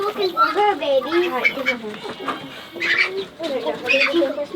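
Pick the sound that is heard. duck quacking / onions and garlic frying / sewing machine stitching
duck quacking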